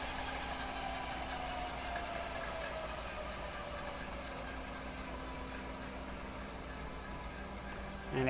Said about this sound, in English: the motor itself, I'll spin it up to speed, let go of the throttle,